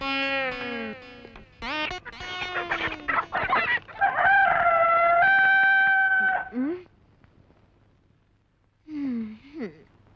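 A voice imitates a rooster's crow before dawn: short clucking calls, then a long, loud, sustained crow, a quiet pause, and a final brief rising call, with no other talk.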